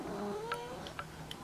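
A pet cat named Tibs gives a few short, soft meows and caterwaul-like calls in quick succession, fairly quiet and close.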